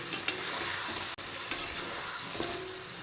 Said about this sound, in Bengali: এবার আমি পেস্ট করে রাখা মশলা দিচ্ছি।